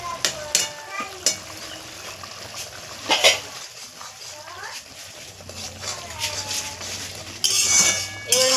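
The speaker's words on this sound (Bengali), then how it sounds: "এবার মশলাটাকে আমি ভালো করে কষিয়ে নেব।" A utensil stirs onion with salt, turmeric and Kashmiri chilli powder in a pan, scraping and clinking against the metal amid a soft sizzle, with someone talking over it.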